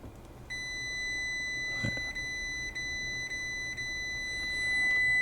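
Continuity beep from a multimeter testing corroded contacts on a 1962 Royal Enfield Crusader motorcycle: a steady, clear electronic tone held for several seconds with small breaks, close and alone over a quiet room.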